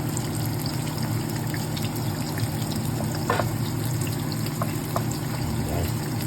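Garlic and onion sautéing in a pan for chicken tinola: a steady, continuous sizzle with a constant hum underneath and occasional small pops and crackles, unbroken throughout.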